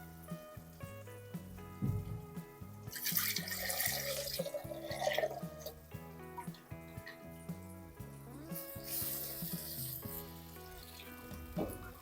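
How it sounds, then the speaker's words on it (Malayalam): Water swirled through a mixer-grinder jar is poured into a simmering tomato curry, giving two splashy bursts of pouring over steady background music. "കുറച്ച് വെള്ളം ഒഴിച്ചിരുന്നു മിക്സിയുടെ ജാറൊന്ന് കഴുകി ഒഴിച്ചു കൊടുക്കേ."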